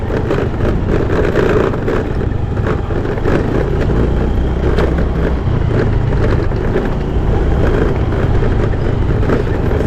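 A vehicle engine drones steadily and loudly while the body rattles over a rough forest road near Kadambur, Sathyamangalam, with a continuous low rumble and no pauses.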